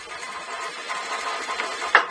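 A sewing machine stitches a fabric seam on a strappy-back dance top, a steady close whirring run with a slight swell near the end, no talking.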